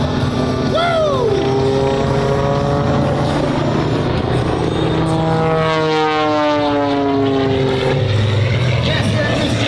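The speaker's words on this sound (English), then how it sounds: "Aaron Fitzgerald, he's a full-time helicopter pilot nowadays. Here he is again, upside down, over the top, spinning it around" A Red Bull aerobatic aircraft performs at the Kansas City airshow, its engine droning loudly with rising and falling pitch as it swoops overhead, while an announcer talks over the public address.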